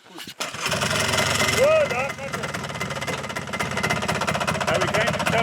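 An old truck engine at Gatvan Olfant runs with a steady rough rattling drone, loud and close, while a voice briefly speaks over it.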